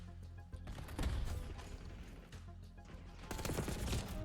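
Gunfire in a close-range gunfight in Call of Duty: Black Ops 6, quiet and busy with rapid rattling shots and mechanical clicks, growing denser toward the end.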